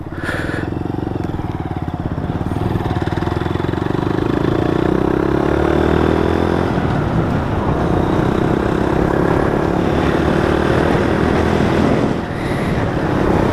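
A Honda Monkey Z125 motorcycle ridden on roads in Cyprus, its small engine droning loud and close with a steady rising and falling pitch as it pulls through the gears, along with wind rush.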